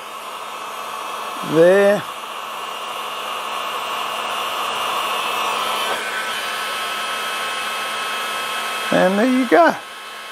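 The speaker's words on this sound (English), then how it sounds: "This is a heat gun." Heat gun blowing hot air steadily over a jar of beeswax, a continuous broadband whoosh running throughout, with a man's brief speech at the start and end.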